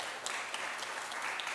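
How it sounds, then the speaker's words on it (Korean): A seated audience applauds at a citizens' creative culture camp event, a brief, fairly faint and even patter of many hands clapping. "다시 한번 큰 박수"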